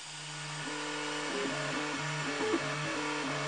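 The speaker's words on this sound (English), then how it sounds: "this nozzle is unclogged and it's printing beautifully" A 3D printer with a freshly unclogged nozzle prints, its stepper motors singing short shifting tonal notes in a quick melodic pattern over a faint constant hum.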